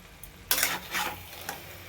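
Fried jackfruit and potatoes being stir-fried with spices in oil in a pan, a quiet background sizzle broken by a few scraping stirring strokes, close up and with no talking.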